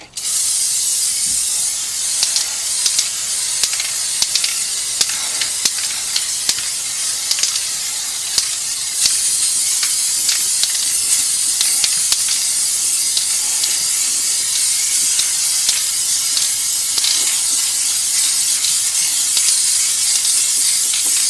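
Aerosol spray paint hissing steadily as a second coat goes onto a rusty wheel, a continuous close hiss for about twenty seconds with brief breaks and small pulses as the nozzle is pressed, no voices.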